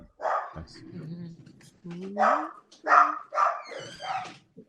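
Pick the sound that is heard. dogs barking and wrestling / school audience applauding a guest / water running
dogs barking and wrestling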